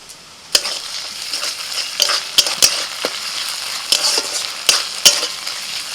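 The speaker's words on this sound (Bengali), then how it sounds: "পেঁয়াজ ভাজা হয়ে গেছে, আদা রসুন বাটা আর কাঁচা লঙ্কা বাটা দিয়ে দিচ্ছি।" Chopped onion sizzles in a pan as ginger-garlic paste and green chili paste are stirred in, giving a steady close fry with scraping stirs and sharp clinks of the spoon against the pan.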